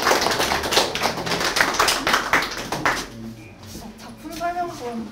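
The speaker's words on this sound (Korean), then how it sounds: "박수로 맞으십시오." An audience applauds to welcome painter Lee Jae-ok at a special art exhibition, with dense clapping for about three seconds that fades into scattered claps, with voices heard beneath it.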